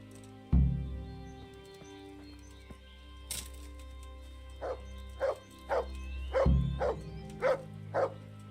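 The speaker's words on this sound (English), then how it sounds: "What are you barking at? Nest? Jesus Christ, dog." A dog lets out a loud, close bark, then a rapid run of shorter barks and yips a few seconds later, with faint background noise in between.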